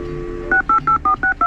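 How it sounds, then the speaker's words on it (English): A keypad at a gated community's entry gate dialing a code, a quick series of six loud, even DTMF beeps after a sustained tone, close and clear with no talk. "you have to dial a code to get in"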